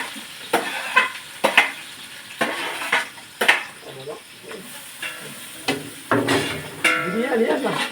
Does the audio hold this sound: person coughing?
no